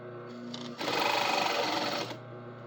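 A sewing machine topstitching along a fabric fold runs in a steady, close whirring stitch that picks up speed briefly in the middle, then settles back to a lighter hum.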